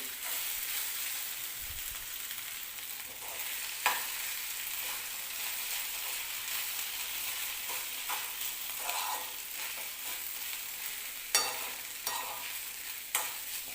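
Aloo poha being mixed in a pan, a gentle ongoing sizzle with intermittent spatula scrapes and occasional sharper clicks against the metal, close by and fairly quiet.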